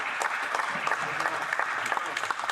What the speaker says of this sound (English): I'd like to give a big round of applause for the gentleman in our ranks over here